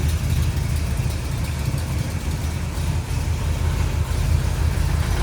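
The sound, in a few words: classic car engine idling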